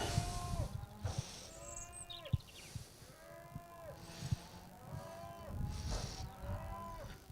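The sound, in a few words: cow mooing in a field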